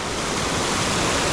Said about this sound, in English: The water stream right here